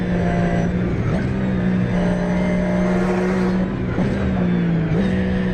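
In a racing video game, a race car laps the Nordschleife at the Nürburgring on an online tourist-track server. Its engine drones loudly and steadily, and the pitch dips briefly at gear shifts throughout.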